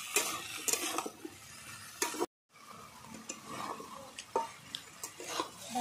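Sukto vegetables, including plantain, eggplant, drumstick, papaya, bitter gourd, potato and beans, sauté quietly in a pan while a spatula stirs and scrapes in intermittent strokes, with a brief silent gap midway.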